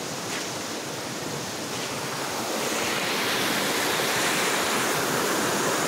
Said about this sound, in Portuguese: Ó, o rio. Olha a natureza.